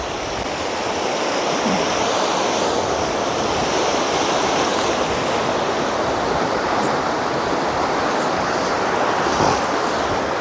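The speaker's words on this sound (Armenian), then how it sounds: "Շատացել է գետը։" A swollen river rushes loudly and steadily past a rural plot of land, a dense continuous roar of churning water with no pauses or voices.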